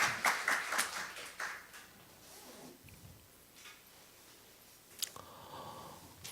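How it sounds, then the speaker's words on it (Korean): Church congregation applauding in a dense burst of clapping at the start that fades into quieter scattered claps and room noise, with a final short flurry near the end. "우리 하나님께 영광의 박수."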